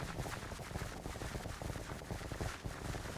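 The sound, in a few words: gunfire in Minecraft Clay Soldiers mod video game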